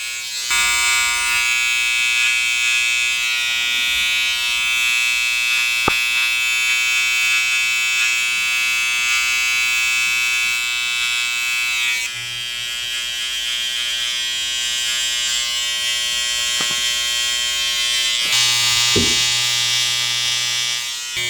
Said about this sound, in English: A little bit of clip over the comb now